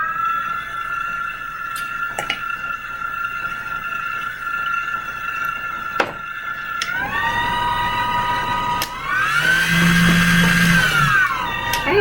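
An electric mixer whirs steadily through cheesecake batter with vanilla bean paste, its motor holding a constant whine with small clicks, then rising in pitch and intensity as it speeds up near the end, with no talking.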